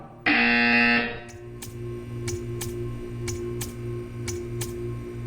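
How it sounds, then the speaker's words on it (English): A loud, steady electronic buzzer from the video game Portal 2 sounds at the start for about a second, then a quieter ambient hum continues with regular faint ticking pulses. "When you hear the buzzer, stare at the art."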